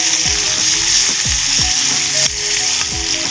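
Spicy beef skin (kikil) stir-fries in a hot pan, a loud steady sizzle cut by repeated rhythmic scraping strokes of a spatula, about five or six in quick succession.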